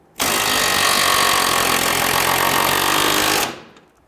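A power tool tightens a fuel tank strap on a 2007-2014 Cadillac Escalade 6.2L V8, a loud, close, continuous rattling buzz lasting about three seconds that starts abruptly and stops, then fades.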